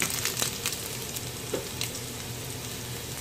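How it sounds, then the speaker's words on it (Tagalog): Garlic fries in hot oil in a pan at the start of a sauté, giving a soft, continuous crackle with a few brief pops. "So, mainit na siya. Ilalagay ko na muna yung bawang."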